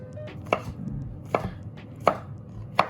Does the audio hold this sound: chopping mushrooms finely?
yes